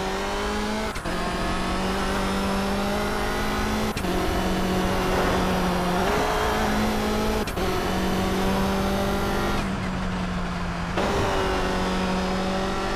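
Race car engine from Toca Race Driver 3 on PS2 screams through a lap, droning loud and steady with sharp downshift drops and re-revs roughly every few seconds, plus faint tire noise.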